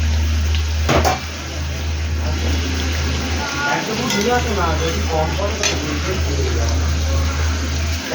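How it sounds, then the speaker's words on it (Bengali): Water is poured into a pan of boal fish curry, splashing and sizzling against the hot spiced gravy, with stirring and kitchen clatter around it. "এবারে জল ঢেলে দেবো, জল ঢেলে দেবো"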